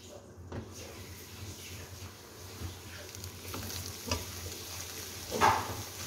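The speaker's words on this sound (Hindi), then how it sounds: "2 बड़े चम्मच घी के लेके ग्रेट की हुई लौकी डाल लीजिए।" Grated bottle gourd fries in ghee in a pan with a soft, steady sizzle, broken by a few sharp clatters of stirring and utensils.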